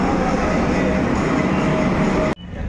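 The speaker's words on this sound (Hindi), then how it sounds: "ये हमारा मेट्रो आ गया।" A Delhi metro train arrives at Chandni Chowk station with a loud, continuous rolling roar on the platform, then cuts off abruptly near the end into quieter station ambience.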